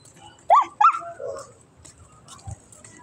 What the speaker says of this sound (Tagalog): May aso dun oh.